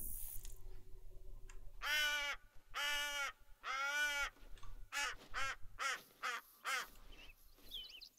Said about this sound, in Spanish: Creo que son pavos, ¿eh?